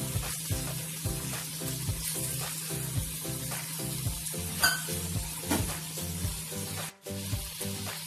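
Milk is stirred into mawa (khoya) roasting in a pan for peda, giving a soft, continuous sizzle with rhythmic stirring scrapes over a steady low hum.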